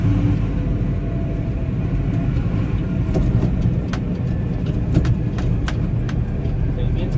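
A six-cylinder tractor engine runs steadily while pulling a slurry tanker, a continuous low rumble close by with a few faint clicks and knocks above it, and someone talks over it.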